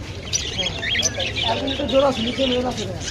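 Cockatiels chirp and squawk at Mugda bird market in Dhaka, giving bright repeated calls close by against a busy market background with people talking.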